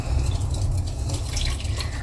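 Milk poured into a banana cake batter in a home kitchen, a close liquid dribble and splash running steadily over a low hum.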